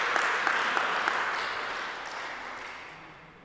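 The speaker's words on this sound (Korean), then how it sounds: "박수로 환영해 주시기 바랍니다." A church congregation applauds to welcome visitors, a steady wash of many hands clapping in a reverberant hall that slowly fades over a few seconds.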